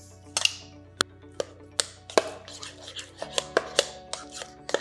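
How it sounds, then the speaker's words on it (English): A utensil taps and scrapes against a bowl while lasagna filling with spices and egg is mixed, a run of sharp close clicks in an irregular rhythm. "And we're just mixing this up so that everything is nicely incorporated."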